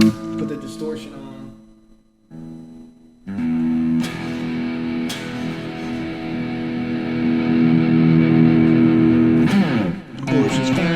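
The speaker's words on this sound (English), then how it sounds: "put the distortion on." Distorted electric guitar ringing out loud and sustained, with thick held chords building over several seconds after a short pause, then a few strummed hits near the end; no talking.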